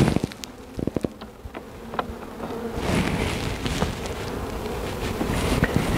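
Honey bees buzzing at a hive, a dense steady hum rising after a few sharp knocks and taps, close and continuous with no voices.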